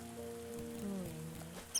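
A small squeak in The Spirit & the Mouse video game, a faint high chirp heard briefly near the end over a steady background hum of game music.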